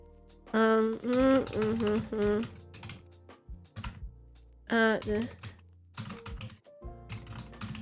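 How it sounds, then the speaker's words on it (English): Rapid clicking of keys on a computer keyboard, coming in bursts, with a person talking over parts of it. "can you hear me typing away?"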